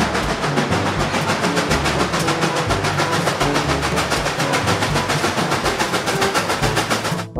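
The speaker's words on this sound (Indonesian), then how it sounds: "Ini ada lokomotif uap kereta api." A loud, rhythmic chugging of a steam locomotive with regular puffs and rattling, continuing steadily before cutting off abruptly.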